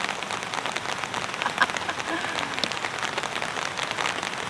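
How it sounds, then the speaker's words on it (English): Rain drumming on a camping tarp overhead, a constant close patter of drops with brief louder splats, heard on its own without speech. "Can you hear the rain?"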